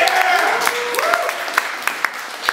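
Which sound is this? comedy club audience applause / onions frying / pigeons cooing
comedy club audience applause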